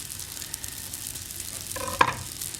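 Breadcrumbs sizzle steadily in a hot pan for a bacon and parsley scallop topping, a soft continuous hiss with a brief louder crackle near the end.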